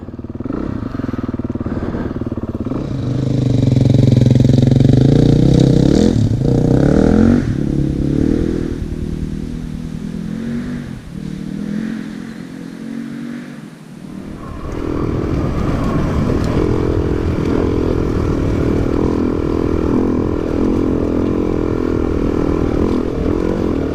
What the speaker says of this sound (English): Good day to be out on the bike.